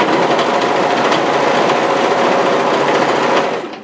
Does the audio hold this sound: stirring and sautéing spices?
no